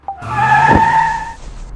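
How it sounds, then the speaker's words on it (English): A car pulls sharply over to a curb with a loud, close tire skid that squeals in steady tones for about a second, then fades out. "He suddenly pulled the car over to the curb."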